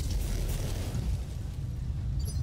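A weapon shot fired in a video game lands as a heavy, booming blast with a rumbling low tail lasting the whole moment; no one speaks.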